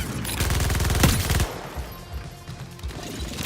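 Rapid automatic gunfire from the video game Suicide Squad: Kill the Justice League, a dense burst of loud rattling shots lasting about a second and a half, then fading into softer in-game combat noise.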